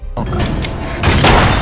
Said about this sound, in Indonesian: tepat ketika pistol ditembakkan